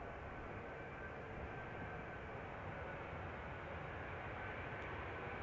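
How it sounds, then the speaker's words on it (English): A United Airlines Boeing 777 in Star Alliance livery arrives from San Francisco at Amsterdam Schiphol on a misty morning, a steady, faint, low jet-engine rumble that holds throughout. "United Airlines in the Star Alliance livery, arriving from San Francisco"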